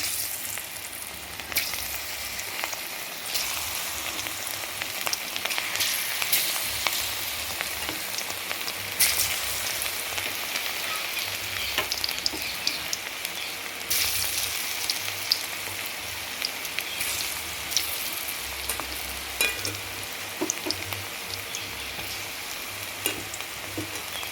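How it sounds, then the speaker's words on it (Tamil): Cauliflower fritters coated in gram flour and chilli powder batter fry in hot oil, a steady dense sizzle with crackling pops running evenly throughout, close and fairly loud with no talking. "இப்போ ஆயில் விட்டாச்சு இதில் போட்டு பொரிச்சு எடுப்போம்"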